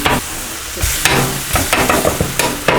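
A metal spatula chops onions on a hot electric flat-top griddle, sharp scraping clacks landing in an uneven rhythm over a continuous loud sizzle of frying food, close up with no talking.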